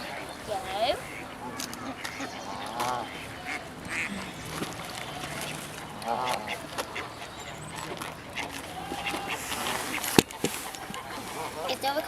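Ducks quack excitedly as they are fed bread outdoors, with a dog whimpering amid a steady murmur of people talking and a single sharp knock late on.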